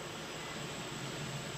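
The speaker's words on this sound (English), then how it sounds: "All 4 props are spinning." Propellers of a Hubsan X4 H501S quadcopter drone rebuilt onto a carbon FPV frame spin together in a steady, unbroken whirring drone, close and even in level throughout, with no voices.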